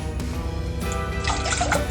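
One and a half cups of water pour into a medium saucepan for homemade eggnog, a close, continuous splashing trickle that fills the pan under a steady background hum.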